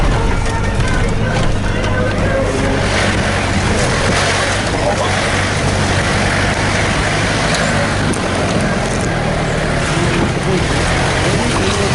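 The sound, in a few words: riding in a Mitsubishi Pajero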